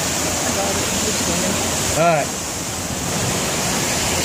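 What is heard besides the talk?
waterfall on a river rapids ride at Dollywood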